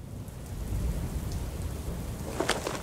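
A thunderstorm with steady, heavy rain filling the whole clip, and a sharp crack of thunder breaking through near the end.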